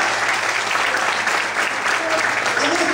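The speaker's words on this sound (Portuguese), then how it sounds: "Você pode aplaudir esse Deus?" A church congregation claps loudly and steadily during a sermon, with thick continuous applause filling the room and some voices mixed faintly underneath.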